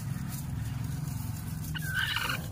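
Farm fowl call out once near the end, a short gobbling burst over a low, steady rumble of background noise.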